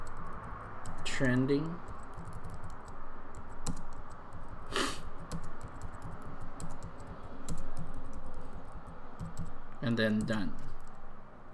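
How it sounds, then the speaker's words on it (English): Soft, quiet typing and key clicks on a Mac computer keyboard, faint and continuous beneath occasional short bursts of someone speaking nearby. "So I'm gonna press that one, and we're just gonna type"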